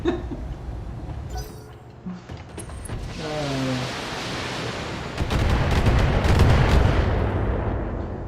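Autocannon fire from a Bull Shark mech in the BattleTech game, a loud rolling series of heavy booming shots that swell into a dense roar, with faint game radio chatter.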